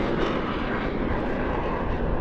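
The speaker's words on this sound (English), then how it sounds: "This is the M346 Master, the Bajlik as it's known in Polish Air Force operation" Polish Air Force M346 Master jet trainer at an airshow, a loud steady roaring jet engine rush that fills the air continuously, with no voices over it.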